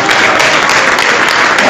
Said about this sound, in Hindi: तो आप प्लीज ताली के साथ मेरा उत्साह बढ़ाते रहिए